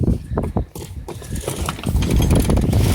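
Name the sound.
sailboat mainsail traveller let down during a tack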